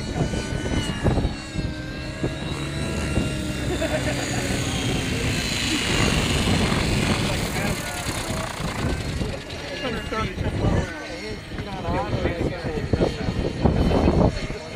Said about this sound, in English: You got a helicopter out there, dude.